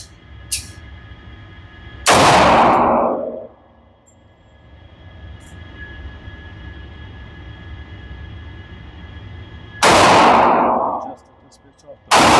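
An FM45 .45 ACP pistol-caliber carbine fires at targets outdoors: two loud, sharp shots with long ringing tails, several seconds apart, over a faint background hum.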